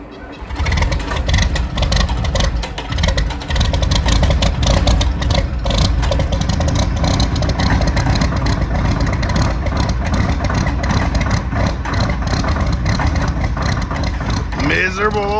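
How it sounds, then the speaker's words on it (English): An old John Deere tractor engine runs close and loud, a rough, continuous rumble with steady chugging throughout and a brief voice near the end. "Miserable old John Deere."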